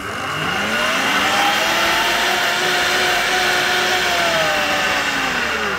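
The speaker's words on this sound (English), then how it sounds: "pop the lid on securely and blend on high speed for about a minute" A high-performance blender runs on high speed with water and detergent inside, a loud steady whir whose motor pitch climbs and then settles for several seconds, close up with no talking.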